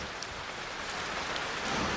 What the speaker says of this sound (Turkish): bu akşamın ruh halini kesin bir şekilde belirleyen şey Pekin'in yaz yağmuru